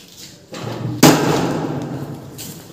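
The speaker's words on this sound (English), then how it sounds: "release the forming hammer, so it will hit the specimen" An Izod impact testing machine's pendulum hammer is released and strikes the specimen with one sharp, loud metallic impact, followed by a sustained ringing hum amid low room noise.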